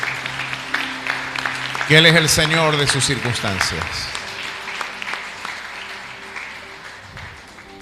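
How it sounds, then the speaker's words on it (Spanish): A church congregation breaks into applause after a voice finishes speaking, a dense burst of clapping that rises sharply and then gradually tapers off under low background sound. "Vamos a brindarle un fuerte aplauso a la joven"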